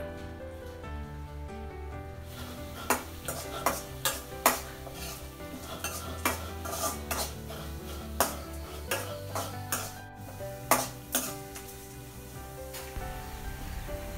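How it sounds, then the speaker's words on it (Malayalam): Onion sautés in a pan for amrutham upma, a soft sizzle under repeated sharp clinks and scrapes of a spoon against the pan, coming in an irregular rhythm with no talking. "നമ്മുടെ സവാള നമുക്ക് നന്നായിട്ടൊന്ന് വഴറ്റിയെടുക്കണം."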